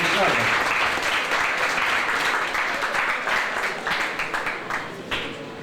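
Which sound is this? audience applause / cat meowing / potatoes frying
audience applause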